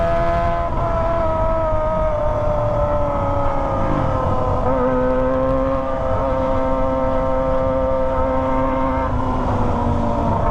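Kawasaki ZX25R with a Toce exhaust on the move, its engine holding a loud, steady, buzzing drone with slight pitch shifts between throttle changes, heard up close with wind rush and no speech.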